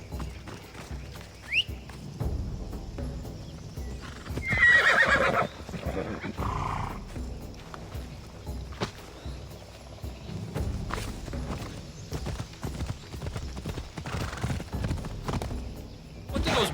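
In Assassin's Creed Odyssey, a horse whinnies sharply and its hooves clip-clop steadily on the ground, with game characters talking over the rhythmic footfalls throughout.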